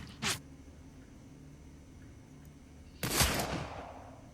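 Gunfire in the tactical role-playing game Shadowrun: Dragonfall comes as two distinct bursts: a short sharp shot early on, then a longer, louder volley a few seconds later, over quiet background hum.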